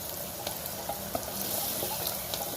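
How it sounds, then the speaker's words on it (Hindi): Onions fry in hot oil in a pan, giving a steady close sizzle with soft scattered crackles and light stirring clinks over a short stretch, no talking. "और तब तक जो हमारे प्याज हैं वो भी ऑयल में फ्राई हो रहे हैं"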